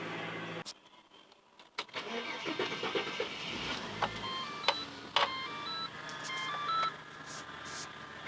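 A Ford AU Falcon Fairmont under smash repair cranks and fires up after a short pause, then settles into a running engine with clicks and beeps from the car close by; no speech.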